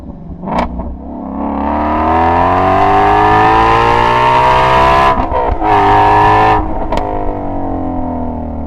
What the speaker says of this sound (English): this Voodoo engine is just the best engine that I've ever experienced